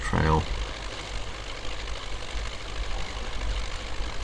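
An MTZ 82.1 tractor in Spintires: Mudrunner runs with a low, steady engine rumble throughout, a brief tonal beep at the start, and the engine carrying on alone at moderate level.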